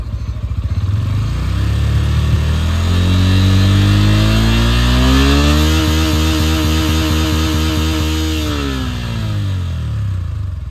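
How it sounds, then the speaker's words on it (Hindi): A Bajaj Pulsar N160 motorcycle engine revs up gradually from idle, its pitch climbing and holding steady at a higher speed before easing back down, loud and close with no talking. "अब भाई बाइक को ना रैप करते हैं थोड़ा सा धीरे धीरे।"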